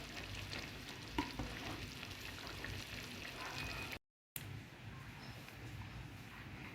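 Dhal curry simmering in a pan on a stove, made without coconut milk, gives a steady low bubbling and sizzling with faint stirring scrapes, close and continuous, broken once by a brief cut.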